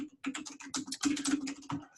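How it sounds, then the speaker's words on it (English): Rapid computer keyboard typing in bursts of close, crisp key clicks with short pauses, loud and alone over a steady low hum. "typing all of a sudden."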